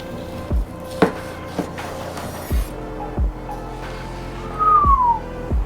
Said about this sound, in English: slice her open